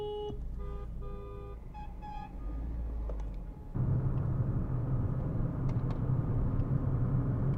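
Italian cars on a parade lap at Brands Hatch: a few electronic beeps come first, then a broad engine rumble swells up midway and carries on steadily to the end.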